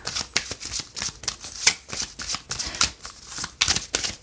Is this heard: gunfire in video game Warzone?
no